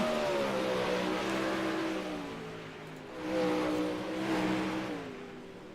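A sprint race car on a track roars past on another lap, its engine droning at a fairly even pitch from a distance, swelling and fading as it moves around the circuit.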